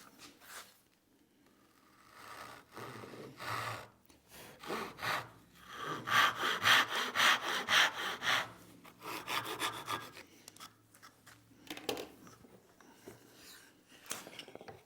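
A hand saw cuts half-blind dovetails in wood with rasping back-and-forth strokes, close and clear, starting in short bursts and building to a sustained run of quicker strokes before tapering into sparse final passes.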